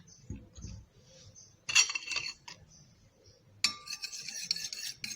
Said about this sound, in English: And mix it. Make sure it's properly mixed together.